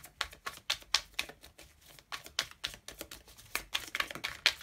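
Tarot cards being shuffled by hand, a steady run of crisp papery riffles and soft slaps repeating close up with short pauses between bursts, no voice over them.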